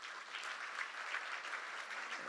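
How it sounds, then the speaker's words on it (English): A conference audience at a data spaces symposium in Madrid gives the organising team a round of applause, brisk many-handed clapping held at a steady level for a couple of seconds. "so give them a hand."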